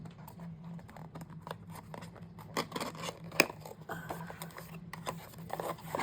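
A flower-shaped paper punch cutting paper that also rounds off corners, heard as soft close crunches and clicks with light rustling handling sounds in between, quiet and without speech.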